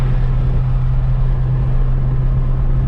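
Steady, loud wind and road noise fill the cabin of a 2020+ Toyota Supra while driving, a constant low rumble with a droning hum and airy hiss and no speech.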